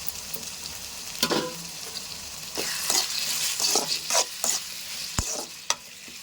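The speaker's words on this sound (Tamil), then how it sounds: "நல்லா வதக்கிக்கலாம். தக்காளி போட்டுக்கலாங்க. பச்சை மிளகாய் ஒன்றே வச்சுருக்கேன், போட்டுக்கலாம்." Tomatoes and a green chili sauté in a hot pan, a continuous sizzle broken by scraping stirs and occasional sharp clicks of the spoon against the pan, close and fairly loud with no voices.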